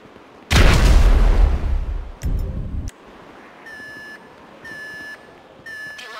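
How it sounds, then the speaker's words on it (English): Inside Grand Theft Auto V during a heist, a loud explosion-like boom and a second crash are followed by a tripped alarm: repeated electronic beeping bursts in a steady on-off rhythm. "The alarm's been tripped."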